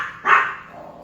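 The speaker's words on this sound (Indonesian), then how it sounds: "Maaf ya, anjing saya gonggong." A pet dog barks once, sharp and close indoors, and the bark fades into a low room tail.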